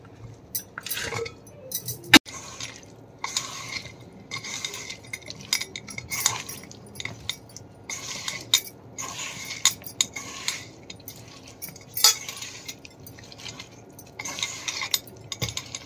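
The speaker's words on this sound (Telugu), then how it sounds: "ఇప్పుడు మనం దీంట్లో గోబీ పువ్వును ఇలా వేసుకొని ఒకసారి కలుపుకోవాలి." Spoon stirring cauliflower florets into gobi pakoda batter in a metal bowl, repeated clinks and scrapes with soft wet mixing in between, close and steady, no talking.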